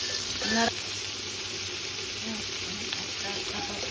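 Pomfret fish fry on a hot tawa, giving a steady close sizzle that runs the whole time, with a brief clatter or flip near the start.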